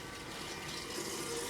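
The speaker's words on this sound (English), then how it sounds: "And now the water's working." A tap runs steadily in a film scene, a continuous broadband gush of water pouring with no break and no voices over it.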